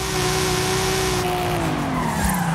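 A Lexus SC300 drifts in Forza Horizon 5, its tires squealing in a long continuous shriek over the steady engine drone, the pitch sliding downward near the end, loud and close with no talk.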